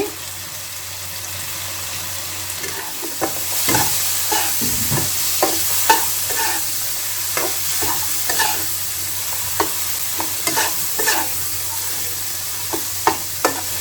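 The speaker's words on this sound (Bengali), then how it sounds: "আদা টমেটো একটু ভেজে নিচ্ছি" Ginger and tomato frying in a pan with turmeric, a steady sizzle broken by repeated scraping stirs and clinks of a utensil against the pan, close and alone.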